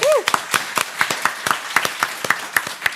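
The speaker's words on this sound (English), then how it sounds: "a big applause for Escape Bar" Scattered hand claps from a small crowd at a live show in London, irregular and fairly close, carrying on steadily for a few seconds.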